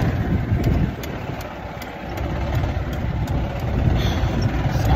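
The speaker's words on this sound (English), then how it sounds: "Today we are just chilling, riding the go-kart." A go-kart engine runs steadily at close range with a continuous low, rough mechanical drone, its level dipping slightly for a moment before building again, with no voices heard.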